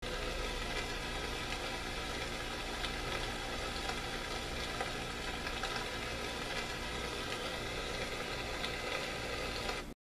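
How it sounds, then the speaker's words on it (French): Dense, steady hiss of recorded rainfall from a projection clock radio fills the whole stretch without pause, even and broadband, then stops abruptly at the end. "le bruit de pluie,"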